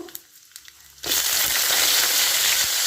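After a quiet second, mustard seeds suddenly burst into loud, dense spluttering and crackling in hot oil, continuing steadily up close.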